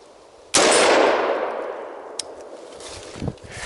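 A single loud gunshot at an outdoor shooting course, followed by a bullet striking a steel target with a brief faint metallic ting as the report's echo rolls away.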